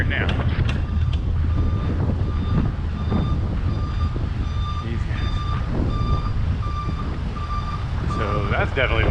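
A truck's reversing alarm sounds steady, evenly spaced beeps over heavy low traffic rumble and wind noise on a busy New York City street, moderately close and persistent throughout.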